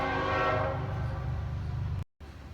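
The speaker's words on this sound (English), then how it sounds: "we had a pause for a train whistle" Train horn blowing over a house wiring job, a sustained harmonic blast that fades away over about two seconds, with low rumble underneath before a brief cut.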